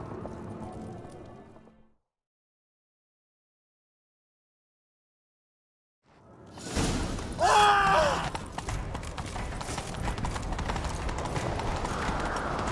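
After a short silence, rhythmic hoofbeats of a galloping horse in The Witcher 3: Wild Hunt build up and continue steadily amid rushing game ambience and a brief clatter.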